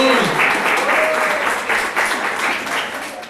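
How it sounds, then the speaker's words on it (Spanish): A church congregation claps in warm applause for about three seconds, a dense patter of hands that fades slightly toward the end, with a voice briefly heard over it. "denle un aplauso"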